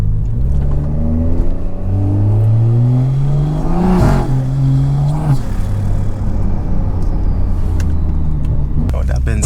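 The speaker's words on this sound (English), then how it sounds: "that's why y'all can hear like the intake and the turbo noises so much" BMW 340i with a GTS hood driving, engine rising and falling through revs with intake whoosh and turbo whir, loud and close throughout, a brief gear-change dip midway.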